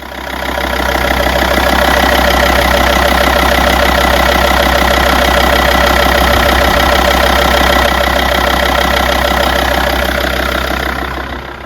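A diesel engine with newly installed injectors idles loud and close with a steady, throbbing clatter. The sound stays even from start to finish, and nobody speaks.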